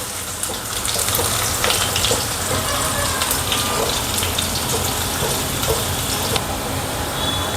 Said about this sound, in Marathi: कांदा घालून घेऊ.